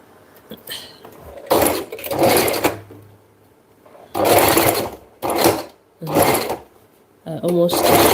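A sewing machine stitches in short loud bursts, pausing briefly between runs of rapid mechanical whirring, with a voice speaking in some of the gaps.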